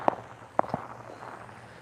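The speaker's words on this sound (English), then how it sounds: "Oh, the fireworks." Fireworks going off at night over water during an evening walk: three distant sharp pops spaced irregularly, faint and isolated in a quiet outdoor setting.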